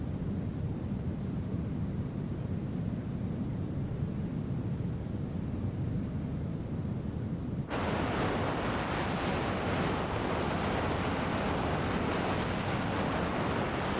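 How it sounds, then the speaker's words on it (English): Storm wind from Hurricane Rina in Microsoft Flight Simulator 2020 during an F-22 Raptor flight: a constant broadband roar that suddenly brightens and intensifies halfway through, with no talking. "Definitely windy, you can tell."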